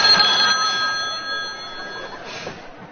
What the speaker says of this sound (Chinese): 什么破电话呀？